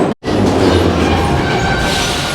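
A Soviet-era metro train in Tashkent runs between stations with a loud, steady rumble and roar of wheels and carriage noise, close and continuous after a brief dropout at the start.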